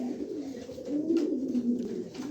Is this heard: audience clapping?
no